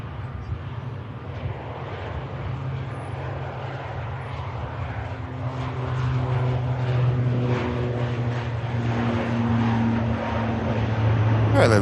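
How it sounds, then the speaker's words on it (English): An ATR turboprop rolls out after landing at Manchester Airport, a steady engine and propeller drone that builds slightly in loudness and holds on for the whole stretch, heard from some distance with faint background murmur. "Fairly long rollout from the ATR"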